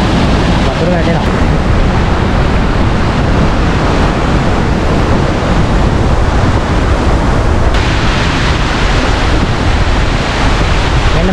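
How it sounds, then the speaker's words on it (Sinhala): Water pours down at the top of Laxapana waterfall near Nawalapitiya, Sri Lanka, a loud, dense, unbroken rush with wind buffeting the microphone, while a person speaks over it. "මෙන්න මෙතනින් පහළට වතුර වැටෙනවා."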